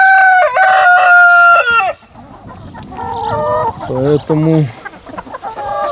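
Rooster crowing loudly up close, followed by hens clucking and squawking around a farmyard where goats and laying hens roam on grass; someone speaks briefly between the calls.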